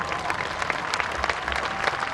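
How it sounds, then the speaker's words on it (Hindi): An audience applauds at a sestercentennial parade, a steady, even patter of many hands clapping at once, moderately loud and sustained through the whole moment. "जरा दिल से तालियां हो जाएं।"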